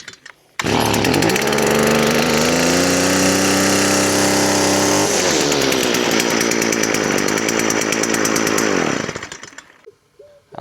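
A Stihl FS 45 string trimmer engine catches and runs at a loud, close, buzzing pitch, shifts to a slightly different note partway, then dies away into quiet near the end.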